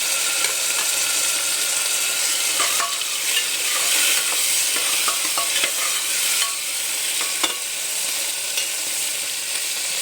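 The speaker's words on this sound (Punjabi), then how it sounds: "ਟਮਾਟਰ ਨੂੰ ਅੱਛੀ ਤਰ੍ਹਾਂ ਭੁੰਨਾਂਗੇ ਅਸੀਂ" Tomatoes and vegetables frying in a pan, with a continuous close sizzle and occasional scrapes and clinks of a spatula stirring, and no voices.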